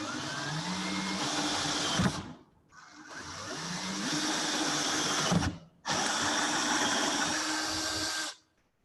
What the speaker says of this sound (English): keep the drill running as you pull it out of the material